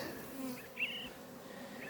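Honey bees buzz at a hive during a beekeeper's inspection of a three-year-old queen's colony, a faint, steady hum with one brief louder pass.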